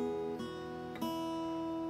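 Guitar notes plucked on the first string with a fretted change, two clear plucks ringing out at moderate level, close and alone with a steady sustained tone between attacks.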